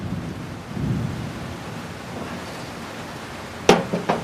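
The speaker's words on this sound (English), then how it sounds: "starting to rain" Steady rain falls outdoors around a grill under a roof, a broad even hiss with low rumbling, followed near the end by a few sharp close knocks.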